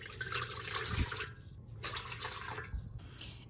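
Water pours into the pan of a Hamilton Beach bread maker for a 2 lb white loaf, a steady close splashing stream that breaks off briefly midway and then resumes, with no talking.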